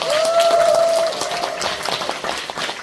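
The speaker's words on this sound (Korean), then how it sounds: "여러분 다시 한번 뜨거운 박수 부탁드리겠습니다." Audience applause at a comic play about newlywed life staged as a mock wedding, a dense burst of clapping that fades toward the end, with a brief whistle-like tone near the start.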